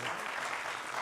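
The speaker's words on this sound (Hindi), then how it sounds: "तालियां।" Studio audience applause on a Hindi television debate show, a brief dense burst of clapping lasting about a second.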